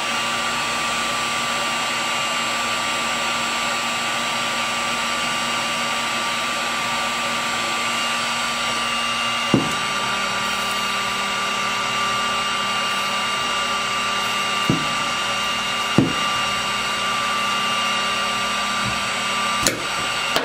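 A heat gun blows hot air to heat shrink tubing for removal, producing a loud, steady whooshing hum that shifts pitch partway through, with a few sharp clicks near and alone.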